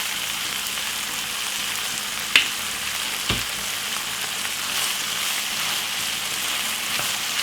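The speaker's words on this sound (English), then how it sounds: "I make it simmer down for 5 minutes." Tuna spaghetti sauce with a little ketchup simmers in a pan, giving a steady, even sizzle and bubbling hiss throughout, with a couple of brief sharp clicks from a utensil partway through.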